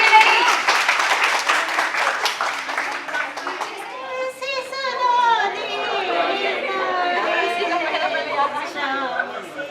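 An audience at a retirement ceremony claps loudly and densely for a few seconds. The applause then thins out beneath overlapping voices and chatter, with people talking close by as the clapping fades.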